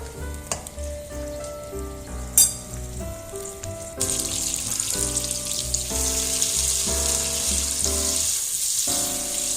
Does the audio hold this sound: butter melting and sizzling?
yes